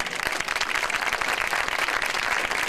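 Dense applause from an audience at an Italian awards ceremony for women's courage, greeting an honoree on stage; steady, loud clapping fills the space throughout with no voices on top.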